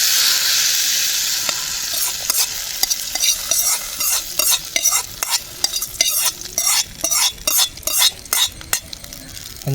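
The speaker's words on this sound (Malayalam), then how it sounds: "എന്നിട്ട് നമ്മൾ വറവ് നേരെ നമ്മുടെ പച്ചടിയിലേക്ക് ചേർത്ത് കൊടുക്കവേ." A hot tempering is poured into tomato pachadi with a loud sizzle, followed by rhythmic spoon-on-pan scraping as the dish is stirred, close up and without talk.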